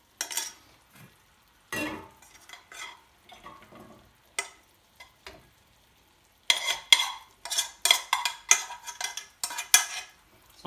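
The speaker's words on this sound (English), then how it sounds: "So I'm just going to put our rice in there." Uncooked rice tipped into a pan for sweet coconut rice, British Indian restaurant style, a restaurant-size portion: scattered bursts of clattering and sizzling, sparse at first, then a denser run of scraping and stirring hits toward the end.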